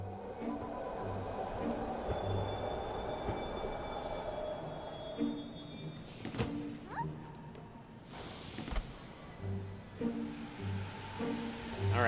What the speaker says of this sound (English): Riding alone on the subway.